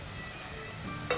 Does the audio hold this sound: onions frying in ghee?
yes